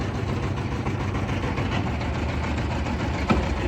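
A motor boat engine runs on the Indus River near Layyah with a steady low, heavy throb. It sits loud and close and keeps an even chugging drone throughout, with no voices over it.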